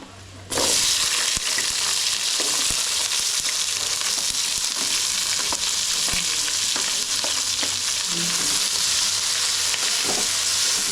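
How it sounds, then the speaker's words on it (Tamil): Onions sautéing in hot oil with dried red chillies in a heated clay pot, a steady close sizzle and crackle with occasional scrapes of stirring, no talking. "வெங்காயம் நல்லா வதங்கட்டும்"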